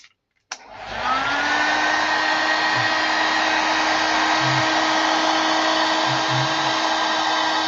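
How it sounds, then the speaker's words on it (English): A hair dryer switches on with a click after a brief pause and blows in a steady, loud, close whine over a craft project, running continuously without talk. "I'm going to have my dryer ready"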